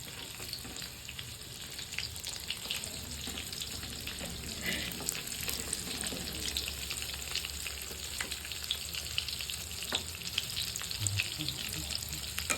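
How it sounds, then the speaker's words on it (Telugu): Soya chunks deep frying in oil give a continuous crackling, bubbling sizzle that holds steady throughout, moderately loud and close, with no talking. "ఇలాగా వేయించి పెట్టాను. ఇది రెండోసారి మళ్ళీ వేస్తాను."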